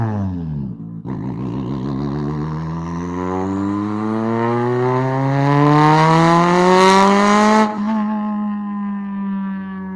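A powerful 1,000-horsepower twin car exhaust roars loudly, revving with pitch sweeping steadily upward, then cutting off abruptly before settling into a deep idle.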